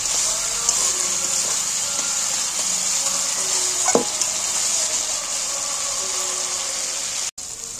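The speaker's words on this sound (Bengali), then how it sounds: "এবার আমি নাড়তে নাড়তে মশলাটাকে ভালো করে কষিয়ে নেব।" Spice paste being stirred and fried in hot oil for chicken skin masala, a continuous close sizzle under repeated spatula scrapes and stirring, with one sharp clack near the start and a brief cut-off near the end.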